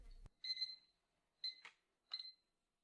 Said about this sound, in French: Il est cuit, comme l'indiquent les bips incessants